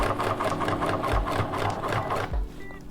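A sewing machine back stitching on a fly front zipper runs in a steady, fast mechanical whir with rapid rhythmic needle strokes. It stays close and continuous, with two slightly deeper pulses partway through.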